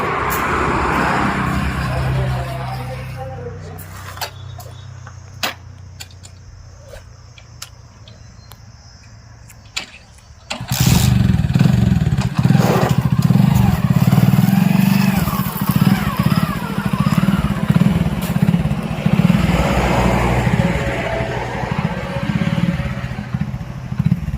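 A motorcycle engine runs while the vehicle turns: quieter idling with light ticking at first, then a loud, close, low engine rumble that carries on to the end, with faint voices.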